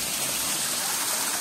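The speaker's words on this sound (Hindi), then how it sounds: "देख ये रहा झरना" Mountain waterfall near Guru Shikhar on Mount Abu, water pouring down over rocks in a forest: a steady, dense rushing wash heard close, with no talking over it.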